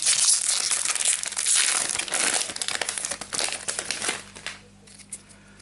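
A Magic The Gathering Kaladesh booster pack being torn open, with loud, close crinkling and crumpling of foil wrapper in quick bursts that fade out near the end.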